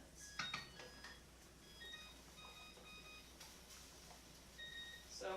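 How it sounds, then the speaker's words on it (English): A kitchen timer beeps in a quiet, thin series of high tones, faint and intermittent, among light clinks of dishes while vegan pumpkin casserole is being cooked. "my timer just went off for the other thing"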